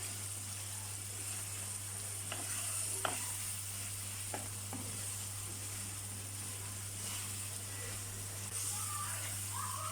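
Steady sizzling in a hot pot as three tomatoes are stirred in, with a few sharp scrapes and clicks of a spoon, over a constant low hum.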